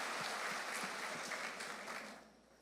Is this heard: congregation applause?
yes